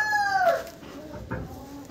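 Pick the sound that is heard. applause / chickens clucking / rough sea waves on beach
chickens clucking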